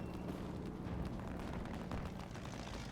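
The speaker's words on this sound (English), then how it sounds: "Call in the airstrikes, they're expendable anyway." Airstrike explosions from the video game Men of War II, a dense, continuous rumble of overlapping blasts and deep booms that sustains steadily throughout without speech.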